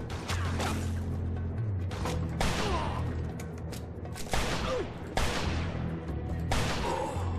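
Gunshots in the Mafia II video game, a handful of loud, sharp pistol and revolver cracks spaced a second or two apart, with game noise between them and no talking.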